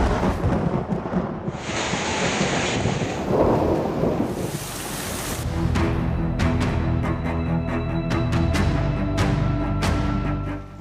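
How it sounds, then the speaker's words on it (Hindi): A thunderstorm in Karachi brings heavy rain and strong winds, with loud rolling thunder over a dense, constant downpour and no voices. "कराची में तेज हवाओं के साथ बारिश ने तबाही फेर दी।"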